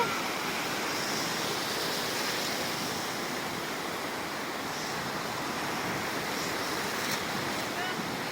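Strong ocean surf breaks on a beach as a steady, loud roar of crashing water that fills the whole stretch, with wind rushing across the microphone.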